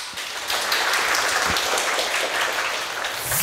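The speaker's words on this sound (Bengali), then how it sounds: "ডায়মন্ড হারবার মহিলা বিশ্ববিদ্যালয়ের জন্য জোরে হাততালি হয়ে যাক" Loud, sustained applause from an audience at Diamond Harbour Women's University, a dense wash of clapping that holds steady from start to finish with no talk over it.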